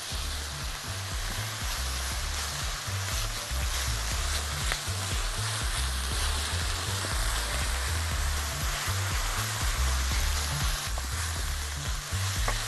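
Onion wilts in hot ghee with a steady, bright sizzle, along with soft stirring and bubbling that keep on without a break at an even, moderate loudness.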